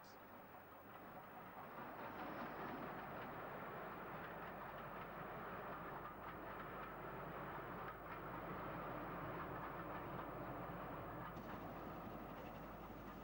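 Double-headed steam moguls cross Richmond Bridge over the Thames heading west in 1966, a steady rumbling train roll with faint clattering running continuously throughout at a moderate distance.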